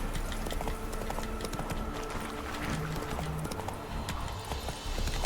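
Roach, a horse in The Witcher 3 video game, gallops through a race, with steady rapid clip-clop hoofbeats under game music and effects, plus faint talk.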